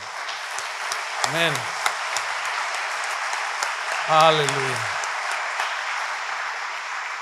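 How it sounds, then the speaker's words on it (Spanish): Church congregation applauding during a service, a continuous patter of many hands clapping that runs under two short spoken exclamations, one near the start and a longer one around the middle. "Dele otro aplauso al Señor."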